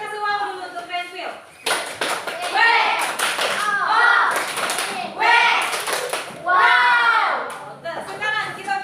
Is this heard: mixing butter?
no